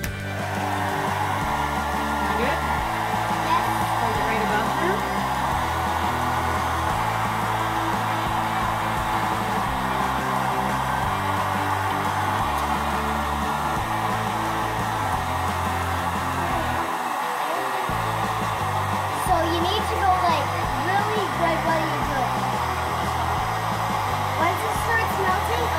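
A hair dryer blows on a Halloween pumpkin to warm it, a loud, continuous motor drone and rush of air lasting nearly half a minute, with faint background voices.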